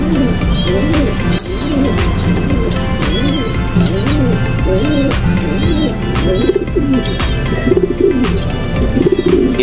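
Racing pigeons kept as breeders, from proven long-distance racing stock, coo steadily in a loft, their low repeated calls overlapping continuously with scattered chirps and clatter close by.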